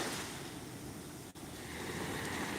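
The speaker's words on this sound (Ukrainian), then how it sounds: "Дуже великі хвилі, літом таких хвиль нема." Large sea waves surge along the shore in a steady, loud roar of surf with wind buffeting the microphone and no voices.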